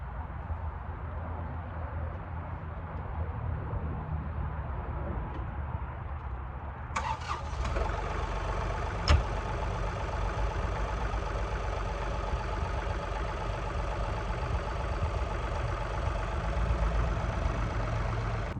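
A John Deere 3R tractor's diesel engine idles steadily with a low chugging rumble, joined partway through by a higher hum and a brief clank.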